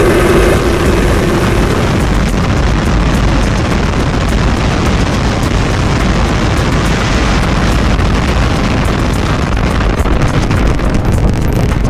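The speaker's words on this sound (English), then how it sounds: "We have liftoff." A rocket lifts off with a continuous, loud, rumbling roar that fills the whole stretch, crackling and buffeting like wind on the microphone, with no break or fade.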